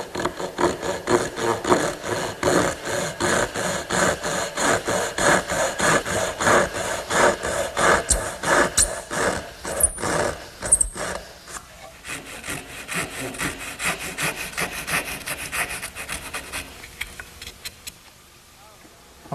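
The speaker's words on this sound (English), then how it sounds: "I need to make a dovetail cut on each end. And I think there's no easier way than to use the regular dovetailing saw." Hand sawing dovetail cuts on each end of wooden rails for Shaker step stools with a dovetail saw, fast rhythmic rasping back-and-forth strokes close by, slowing and tapering off near the end.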